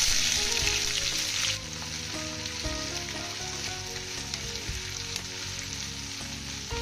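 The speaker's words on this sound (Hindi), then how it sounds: "प्याज को हमें अच्छी तरह से भूनना है फ्रेंड्स।" Onions frying in a pan with whole spices, cinnamon, cardamom and cumin seeds, give a loud, continuous crackling sizzle that starts bright and intense and then settles to a steady fry.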